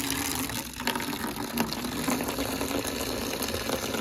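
Water rushes and gushes steadily from a tap or hose while filling up for washing a KTM Duke 200 motorcycle at home, a continuous close, noisy stream with no talking.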